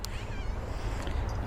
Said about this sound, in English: It's my neighbor's cat.